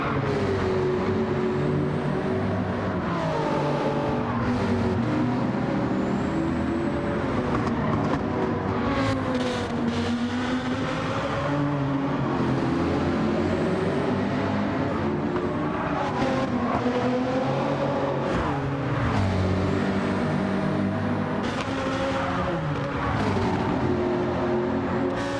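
Race cars, including a Supra, a Hyundai and a Lamborghini, roar steadily around the Nürburgring in a racing video game, with loud engines droning and shifting pitch throughout.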